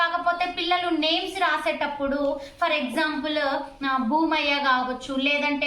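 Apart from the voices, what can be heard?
No distinct noise like a dog, phone or traffic.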